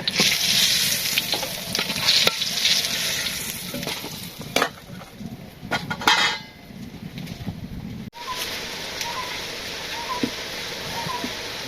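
Pointed gourd fries in a pan as it is stirred, with a hissing sizzle broken by scraping and clanks of the utensil, interrupted midway by sharp handling noises and short pauses.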